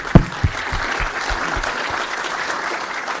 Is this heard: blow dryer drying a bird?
no